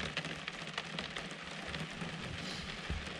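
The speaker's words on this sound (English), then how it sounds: "Can you hear it raining?" Rain falls steadily on a truck camper, a soft, continuous patter and hiss heard from inside, fairly faint and even with a few sharper drop taps, no speech.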